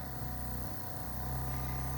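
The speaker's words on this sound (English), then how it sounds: "let me just pop the machine on" An airbrush machine used for decorating cookies runs with a steady, low, continuous mechanical hum and buzz close by, unchanging throughout.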